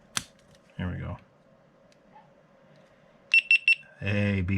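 A GoPro camera powering on gives three short, high electronic beeps in quick succession, close and clear, with a voice speaking briefly just before and again right after.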